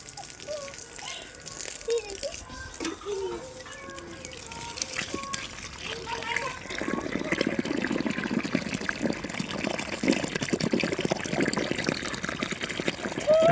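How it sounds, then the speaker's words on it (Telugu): Water gushes from a hose pipe into a large hole near a house, starting after some talk and rattling, then running as a steady, growing rush until the end. "పైపు తీసుకురమ్మా, నీళ్ళు పెడదాం"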